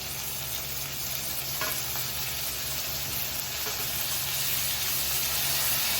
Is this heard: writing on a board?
no